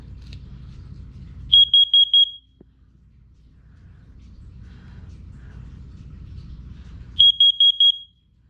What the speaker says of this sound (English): Okay, now it's time to do the CO detector.